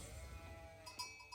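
Sheep bleating in the real-time strategy game Age of Empires IV, a few short wavering bleats with game ambience beneath, faint and close.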